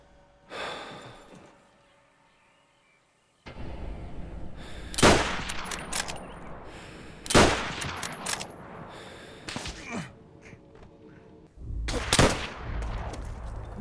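M1 Garand rifle shots in the World at War video game, loud sharp bursts of gunfire coming in several separate clusters, with a short quiet gap near the start and game ambience between the shots.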